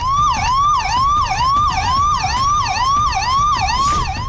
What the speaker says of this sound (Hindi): मौके पर फायर ब्रिगेड की गाड़ियां पहुंच चुकी हैं।